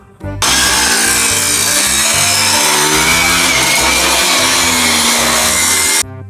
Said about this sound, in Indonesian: ada sepeda motor.